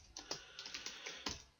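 Someone types on a computer keyboard, producing a quick, uneven run of about ten soft, close clicks and taps.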